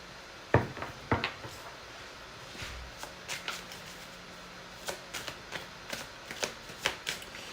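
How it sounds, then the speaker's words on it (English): Tarot cards being drawn and shuffled, a sequence of soft flicks and riffling snaps arriving in irregular bursts, close and quiet with no talking. "Now let me just draw a card on"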